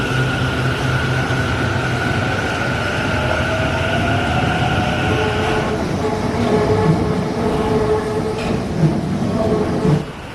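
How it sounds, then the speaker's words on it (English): A driverless metro train rumbles and hums steadily at an end station in Taiwan, its motor tone rising and shifting as it moves along the track, loud and close throughout. "the trains just go over and then they switch direction and then they go back in service"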